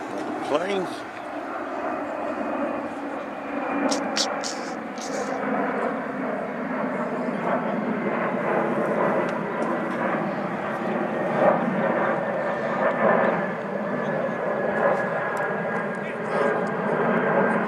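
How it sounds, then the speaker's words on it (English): An airplane passes overhead during a local football match, a long droning engine roar that swells and lingers across the whole stretch, heard beneath crowd noise and occasional talk. "Planes."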